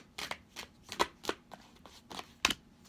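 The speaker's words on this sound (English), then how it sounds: "So, I'm going to ask for 4 more cards from Ma'at." Tarot cards are shuffled by hand in a close, quiet series of about eight quick riffling bursts, each one short and crisp.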